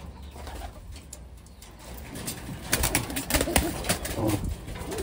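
Racing pigeon cooing among a flock at a race clocking loft in Sison, Pangasinan; soft, continuous cooing and rustling that grows busier and louder toward the end, with no talk.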